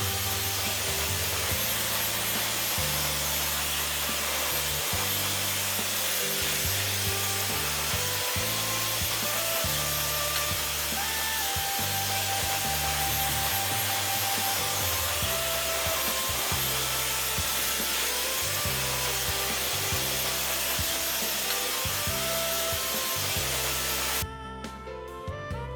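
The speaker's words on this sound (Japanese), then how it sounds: "ドライヤーで髪をよく動かしながら仕上げていきます。" A hair dryer blows steadily while a short mushroom haircut is finished and shaped, its even rushing airflow continuing under background music until it cuts off near the end.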